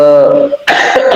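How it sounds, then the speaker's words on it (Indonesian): A speaker coughs once, hard and close, in a talk on blessings; the cough comes right after a sustained voiced sound, one harsh burst with a short rasping tail. "aduh batuk"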